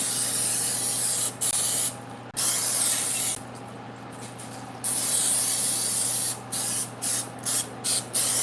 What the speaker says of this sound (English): I'm gonna put a little of this oil on here so that the seasoning will fit